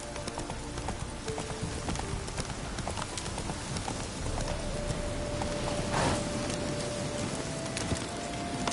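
Hooves of the horse Roach in The Witcher 3 clip-clop in a steady galloping rhythm. The sound runs continuously under the game's ambient noise and is moderately close, with no speech over it.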